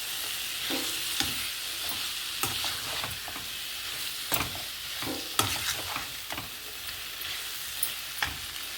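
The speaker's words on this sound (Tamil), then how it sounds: "அதோட ப்ரொக்கோலியும் போட்டு வதக்குவோம்" Capsicum, green peas and broccoli being stir-fried in a pan, with a steady sizzle broken by repeated clanks and scrapes of a spatula stirring the vegetables, close and loud with no speech.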